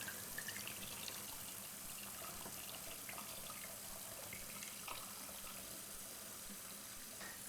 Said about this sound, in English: Just give a rinse here on the lid because I won't need that anymore